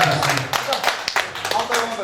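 Children clap in scattered, uneven bursts at a 20th anniversary gathering of Kazakh-Turkish lyceum No. 4's class 9B, with voices talking over the claps throughout.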